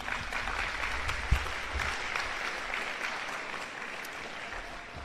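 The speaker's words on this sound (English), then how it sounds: "You can give them a round of applause." Applause for football players at a signing day event, a fairly steady mid-level clapping from a crowd with one sharp thump early on, gradually easing.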